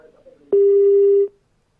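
A steady telephone tone sounds once for under a second, loud and clean, right after a call drops, following faint talk in the background.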